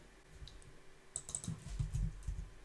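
Quiet clicking keystrokes on a computer keyboard while an HTML tag and Enter are typed, a short burst of taps that grows slightly busier and louder toward the end.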